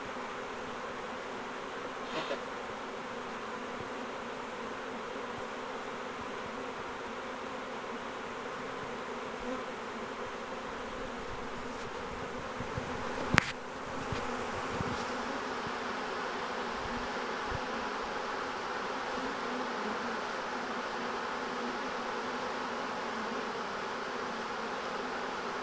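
A honey bee swarm in Red Bluff, California hums steadily as it marches into a hive box, a dense, continuous buzz from many insects that stays level throughout, broken by a brief knock partway through.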